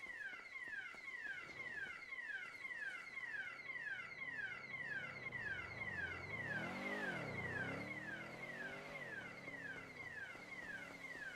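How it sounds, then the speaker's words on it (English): A car alarm blares continuously, its repeating rising electronic whoops cycling steadily for the whole stretch, with a lower siren-like sweep briefly joining midway; no voices. "I hate those alarms."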